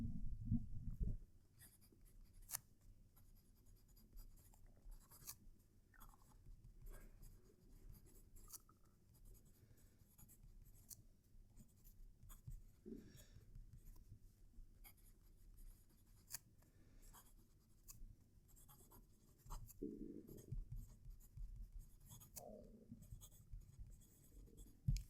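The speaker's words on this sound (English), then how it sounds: "I'm now going to move the mic close to the paper for a final writing sample with this pen." A Jinhao fountain pen scratches across paper with the microphone placed close, giving faint, soft scratchy strokes in irregular bursts and pauses over a quiet background, with occasional louder rustles of hand and paper.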